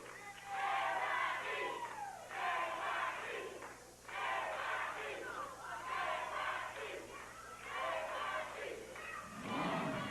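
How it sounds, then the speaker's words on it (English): Wrestling arena crowd chanting for the Junkyard Dog (JYD) in loud, rhythmic bursts of massed voices, repeating steadily with brief dips between chants. "Crowd is chanting for JYD"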